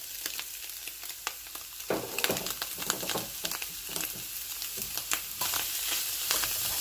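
Chicken pieces stir-frying in a wok for fried rice give a loud, continuous sizzle broken by sharp scraping and tossing sounds, heard close with no talking.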